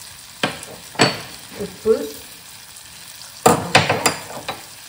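Citron pickle pieces are stirred in oil with chili powder, salt and turmeric, giving a series of close scraping strokes and soft sizzles. A voice speaks briefly.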